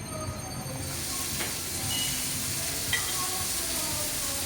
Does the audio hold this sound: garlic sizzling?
yes